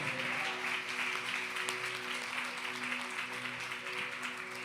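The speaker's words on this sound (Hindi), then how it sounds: "समझने वाला तालियों के साथ प्रभु को महिमा कर सकते हैं" Church congregation applauding to glorify the Lord, a continuous wash of clapping heard at a moderate distance and fairly faint, with a sustained tone underneath.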